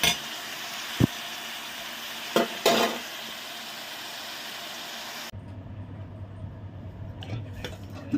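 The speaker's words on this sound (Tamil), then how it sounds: "நல்லா வந்து வதங்கணும் ஆயிலே வதங்கினா நம்ம கசப்பு இருக்காது" Vegetables sauté in hot oil with a steady sizzle, while a spoon clanks against the pan a few times as they are stirred. The frying sound gets quieter and changes partway through.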